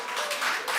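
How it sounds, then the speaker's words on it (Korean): A church congregation applauding at a Sunday service, a brief burst of dense clapping heard from the room, moderately loud and without speech over it. "박수."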